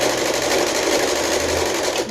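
A sewing machine stitches a long seam in pajama fabric, humming steadily with a fast, even needle rhythm, close and loud with no pauses.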